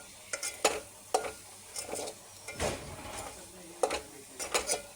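A spoon mixes a potato farari mixture of soft, overboiled potatoes in a pan, making repeated scraping and clinking strokes over a faint sizzle, close and irregular.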